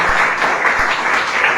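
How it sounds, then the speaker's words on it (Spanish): A church congregation claps together at a sermon, producing a short stretch of steady, dense applause heard up close with no talking over it. "Denle un aplauso a Dios"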